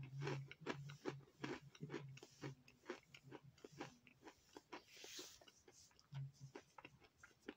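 Repeated crisp crunching bites and chewing of Snyder's of Hanover sourdough pretzel nibblers, close up and fairly loud, with brief low murmurs in between.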